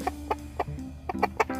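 Several chickens cluck close by in short, uneven bursts, a handful of sharp clucks spaced irregularly over a low background.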